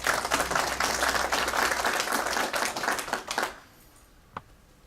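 Loud, dense applause from an audience at a formal ceremony honoring the president of Cusco's Superior Court of Justice, steady for about three and a half seconds, then cut off sharply, leaving near silence and one faint tap.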